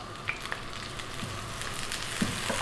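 Onion dropped into hot corn oil in a pan, with garlic and ginger to follow for a Chinese chicken dish, giving a close continuous sizzle with light crackles and occasional stirring clinks, no talk.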